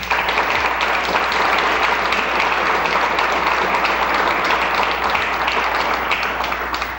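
Sustained audience applause at a live local broadcast event, a dense, even roar of many clapping hands that stays loud and steady throughout.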